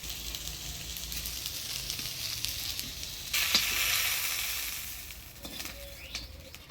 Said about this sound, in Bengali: বেগুনগুলো আমি হালকা আছে ভাজিয়ে নিলাম